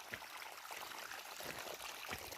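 Water rushing out of a two-and-a-half-inch pipe in a farm nal irrigation system makes a steady, soft gushing stream with faint splashes throughout and no voices.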